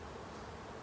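Honeybees hum around an open hive during an inspection, a steady, close buzzing drone that fills the brief moment without a break and with no voices.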